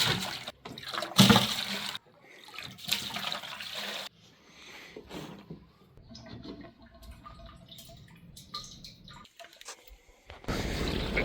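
Water runs and splashes as buckets are filled for chickens in a backyard coop, a steady gurgling stream with bursts of louder rushing at the start and end and a few drips between, with no talking.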